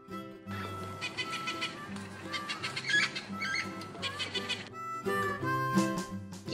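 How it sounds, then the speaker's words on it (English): Harsh parrot squawks in several short bursts, set against a background of light music. "P for parrot."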